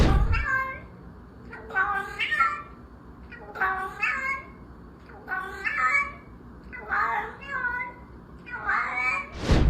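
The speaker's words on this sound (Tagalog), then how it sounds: "Si Kala ay isang orange cat na nakilala sa pagmiyaw ng may tono." An orange cat meows in a tuneful, song-like way, sounding almost like singing words, with about six drawn-out, pitch-bending phrases spaced through the clip, close and clear over a faint background hum.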